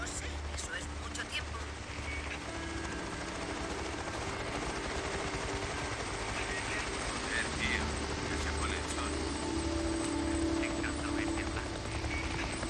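Helicopter rotor thumping steadily in the Days Gone video game, a continuous low chop heard behind game voices and effects with occasional gunfire-like bursts.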